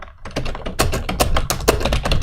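Sharp computer clicks and key taps come in a quick irregular run at close range, fairly loud, with no talking.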